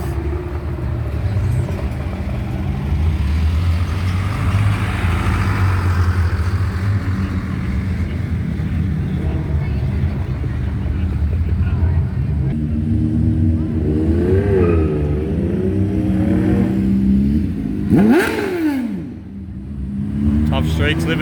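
A car rolls in and revs at an evening street car show in Browns Plains, a steady engine rumble building into rising and falling revs near the end while a voice talks over it.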